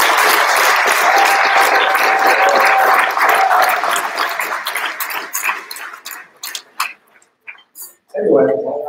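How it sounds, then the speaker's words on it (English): Banquet audience applauding the organizing committee at a rowing centennial dinner, steady dense clapping that fades out over several seconds into scattered claps before a voice resumes. "how about a round of applause for you?"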